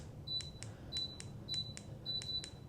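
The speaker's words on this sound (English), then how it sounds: "when you hit the lowest setting it beeps twice" Short electronic beeps from an Artika Sunnyvale ceiling fan remote at its setting limit come in quick pairs, four pairs evenly spaced, faint and crisp over a soft background hum.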